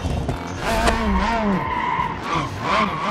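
Tires of a Mazda RX-7 squeal and skid through a drift in the BeamNG Drive driving game, a continuous wavering screech with engine rumble underneath, loud and close.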